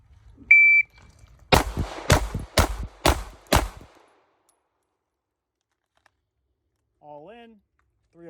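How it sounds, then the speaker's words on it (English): Five handgun shots ring out in rapid, evenly spaced sequence from a low ready position at five yards, sharp and loud, preceded by a brief beep from a timer, then quiet with a short voice afterward. "We're gonna shoot 5 rounds in 5 seconds from 5 yards."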